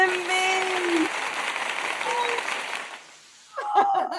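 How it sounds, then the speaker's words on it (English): An audience keeps clapping in a broad, sustained wash that fades out near the end, while voices talk over it and a brief chuckle comes through. "Look, they're still clapping."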